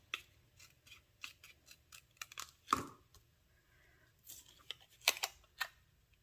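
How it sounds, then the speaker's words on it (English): Scissors snip through paper during scrapbook page assembly, a series of short crisp cuts in an uneven rhythm with a louder crunchy cut and a few brief paper rustles, close up and with no talking. "I think I'm going to just cut off about 1/4 inch."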